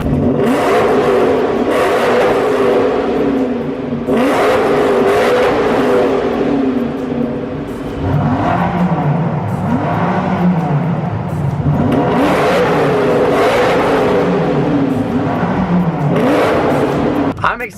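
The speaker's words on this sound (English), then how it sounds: "But gotta do a rev battle." Lamborghini Huracan engine revving hard in a rev battle, loud and close, with repeated surging pulls and drops in pitch, several rising bursts over a sustained roar.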